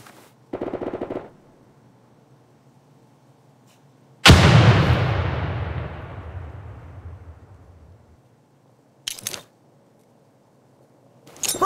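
A frag grenade detonates in America's Army 3 basic training, a single heavy blast whose rumbling boom fades out over several seconds, with short, sharp bangs sounding before and after it.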